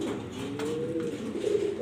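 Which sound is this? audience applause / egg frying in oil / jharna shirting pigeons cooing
jharna shirting pigeons cooing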